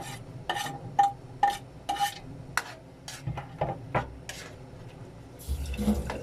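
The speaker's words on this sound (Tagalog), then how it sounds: "Ilagay na natin yung bawang, buyas, ating luya, siling green" Garlic, onion, ginger and green chili stirred into thick coconut milk in a pot, with repeated spoon scrapes and taps against the pan, a soft bubbling underneath, and a brief rustle near the end.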